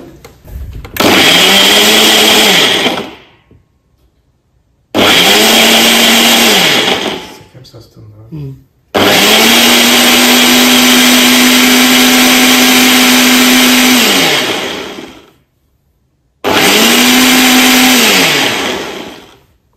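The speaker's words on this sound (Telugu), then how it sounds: "నేనైతే మ్యాక్స్ బ్లెండ్ పెట్టేస్తున్నాను ఇప్పుడు." A kitchen blender on its maximum setting blends apple into juice, loud and close, running in four long bursts with brief silent pauses between them, the motor pitch rising and settling each time it starts.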